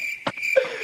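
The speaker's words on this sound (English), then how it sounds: "Where's the crickets?" Cricket chirping sound effect played as a comedic gag: a steady high, thin insect trill runs through the short clip with a brief broadband thump near the middle, with no talk.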